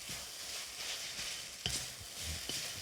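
Prawn chow mein noodles stir-fry in a hot wok, giving a continuous hiss of sizzling with a few sharp clanks and tosses of the spatula against the metal.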